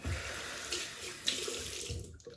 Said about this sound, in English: Hot tap water, not too hot.